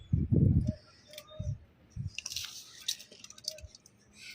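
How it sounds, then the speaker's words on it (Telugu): Soil is packed into a plant pot with soft, close squishing and crumbly pressing sounds in a few uneven bursts, followed by light ticks and rustles. "ఇప్పుడు దీనికి బిర్రుగా మట్టి నింపుకుంటానమ్మా"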